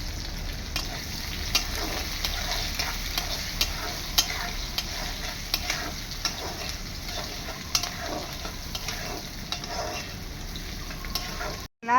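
Onions frying in hot oil for a home-style Bengali goat curry, giving a steady close sizzle with frequent scraping and stirring clatter from a spatula, no talking.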